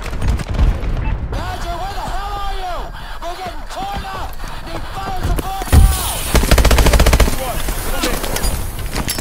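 Rapid automatic gunfire in the Call of Duty: Advanced Warfare shooter, a burst of fire then a steady rattling volley, loud and close, with a character's voice calling out over the battle.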